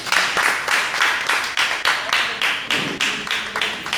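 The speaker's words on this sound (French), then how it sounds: "Merci de vous applaudir" Applause from an audience at an online-sales training session, a steady dense patter of many hands clapping throughout, moderately loud and fairly close, with regular surges in intensity.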